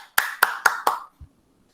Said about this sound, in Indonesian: silahkan kita memberi aplaus kepada kelompok 1 dan kelompok 2 yang sudah mempresentasikan hasil tugasnya